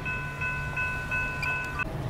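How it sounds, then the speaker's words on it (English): A westbound Union Pacific mixed freight train rolls through Montour, Iowa, on the Clinton Sub. A steady, close rumble runs throughout, with held tonal horn-like notes laid over it, and no talking. "Nice westbound mixed freight through Montour"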